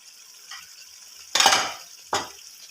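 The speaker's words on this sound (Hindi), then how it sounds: "2 चम्मच जो है वो दही ऐड करूँगा, 2 चम्मच, और फिर इसकी अच्छी तरह फ्राई करूँगा" Qeema frying with yogurt in a pan, a couple of loud close spoon stirs with a burst of sizzle, over a faint steady hiss of cooking.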